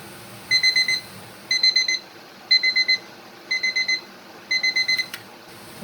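A kitchen timer alarm goes off after fifteen minutes of canning pineapple habanero jelly, beeping in five evenly spaced bursts of rapid electronic pips, loud and close over a steady background hiss.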